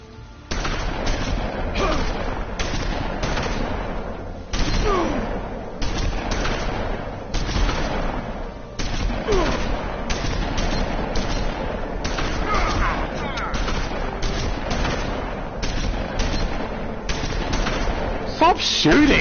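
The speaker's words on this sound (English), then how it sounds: "Stop shooting!" Rapid gunfire in The Wolf Among Us, episode 3, A Crooked Mile: loud, continuous bursts of shots in dense runs, broken by short pauses, with a voice shouting briefly over the fire.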